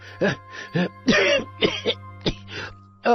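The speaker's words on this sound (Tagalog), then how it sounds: "Hindi na kasi ako tinitigilan ng ubo kong ito." A string of harsh, rasping coughs and throat-clearing bursts, close and loud, coming in quick irregular fits over a low steady hum.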